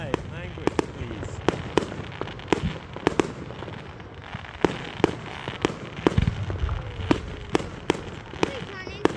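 Bonfire Night fireworks in Elgin burst repeatedly in sharp loud bangs, about a dozen spaced irregularly, with crackle and crowd noise between them and people talking nearby.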